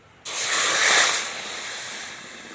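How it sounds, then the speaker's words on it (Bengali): Water poured from a bowl into a hot pan of sugar on the stove to make syrup for lyangcha sweets sets off a sudden loud rushing hiss that holds steady for about two seconds, with no talking. "এক বাটি চিনি দিয়েছি, তাই 1 বাটি জল দিয়ে দিচ্ছি।"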